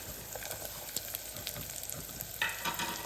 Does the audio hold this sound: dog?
no